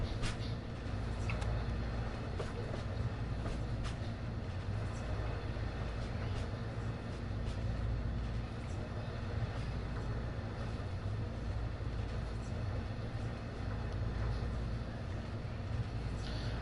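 An Amtrak train in Train Sim World 2020 running through the Hudson River Tunnel, a steady low rumble and rolling roar of wheels on rail, continuous and enclosed with no pauses.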